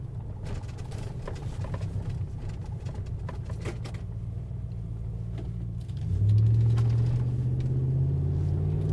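A 2015 RAM 1500 Laramie Limited pickup with a Hemi V8 rolls along at about 20 mph with a steady engine rumble, several dull thumps over large road bumps, and a deeper drone rising near the end.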